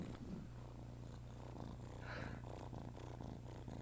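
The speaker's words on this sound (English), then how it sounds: "You can still hear her purring." Small kitten purring close up, a soft continuous rumbling purr that holds steady throughout, quiet and alone with no voices.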